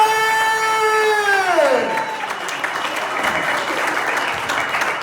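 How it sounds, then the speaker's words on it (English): A comedy crowd at a live stand-up show in a Jersey City apartment complex claps and cheers for the headliner, the roar swelling in as a sustained musical tone glides downward and fades, then dense clapping carries on loudly. "Make some noise for your headliner, Golden Tate Winston!"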